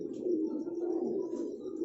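Racing pigeon cooing close by in a calm setting, a low throaty rolling coo that rises and falls continuously, with faint chirps overhead.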